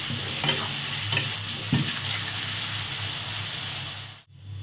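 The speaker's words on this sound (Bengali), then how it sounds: "আমাদের আলু ভাজা হয়ে গেছে" Potatoes sizzle steadily in a pan, with a few distinct stirring scrapes early on. The frying continues loud and close, then cuts out briefly near the end, and no one speaks.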